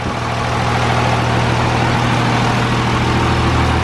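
A modified 1000HP 5.9 Cummins diesel truck engine idles loud and close, a deep, steady rumble that holds without pause throughout.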